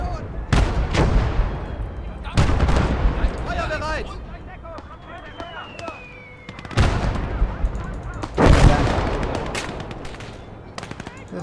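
Gunfire in a tank battle video game with a T-34, several heavy booming shots and bursts spread across the stretch, loud and close, with a voice speaking between them.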